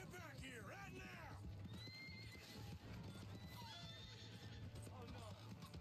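Horse in Red Dead Redemption 2 whinnying loudly while hooves clatter in a quick clip-clop, close and busy, with other game sounds around it.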